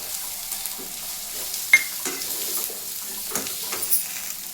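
Cashews and lentils fry in a pan with a soft, steady sizzle, broken now and then by faint stirring scrapes and small clinks.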